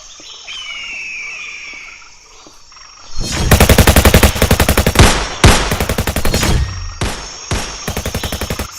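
Bursts of machine-gun fire, loud and close, rattle in rapid strings with short gaps between them, following a quieter stretch of forest ambience with birds chirping.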